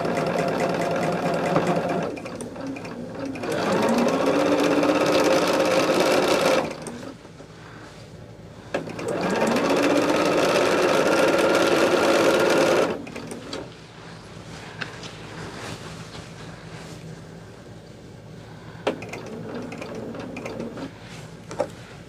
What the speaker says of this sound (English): now we have our very last row here that we need to